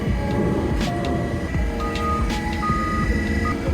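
Forklift reversing beeps at a truck unloading, a few spaced tonal beeps over a constant loud engine rumble and clatter, nearby.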